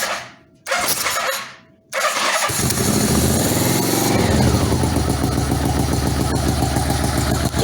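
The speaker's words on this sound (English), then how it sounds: "Still sounds like one cylinder to me." An 1985 Yamaha Venture Royale motorcycle engine cranks with the choke on, catches and runs rough on one cylinder, a loud, close, uneven throbbing idle after a couple of starter bursts.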